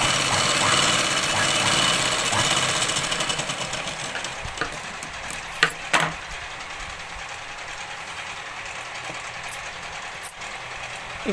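A sewing machine stitches Punjabi dress pants with a steady, close mechanical whir that eases slightly partway through and is broken by a few sharp clicks, with no talk.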